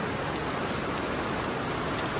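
Heavy rain pours down during a downpour at a house under construction with a metal tile roof, a dense, loud, continuous hiss that stays constant throughout, with no voices.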